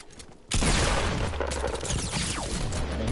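Sustained burst of rapid Fortnite gunfire erupting suddenly after a quiet half-second, loud and continuous with dense overlapping shots to the end.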